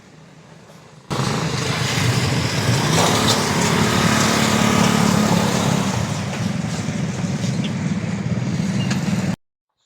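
A motorcycle engine drones steadily while riding along a road, starting abruptly after a quiet second and holding a loud, even hum with faint wind and road noise before cutting off near the end.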